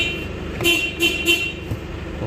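A car horn gives three short toots in a row, close and fairly loud, over a low background hum.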